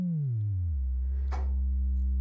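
A precise sine wave from a modular synthesizer oscillator, a steady pure tone that glides downward over the first moment and then holds level, with a faint brief noise burst midway.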